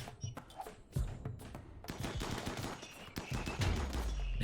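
Heavy SMG bursts in the colony game Rimworld during a mechanoid raid, a busy run of rapid, fairly loud shots and thuds layered over one another with no voices.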